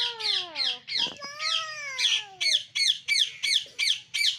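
Parrots in a garden squawk loudly and nearby, some calls drawn out into falling whistles before a steady string of sharp, rhythmic squawks, with no voices.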